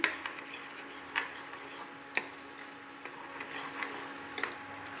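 Spices frying in a pan for tori sabzi, a soft sizzle punctuated by scattered ticks and scraping stirs, fairly close and quiet with no talking.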